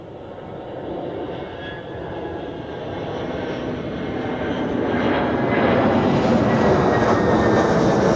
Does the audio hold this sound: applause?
no